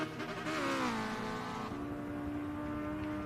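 A racing car in a FAST 4s round pulls hard through a left-hand corner, engine note rising and shifting as it accelerates, loud and close with steady mechanical roar.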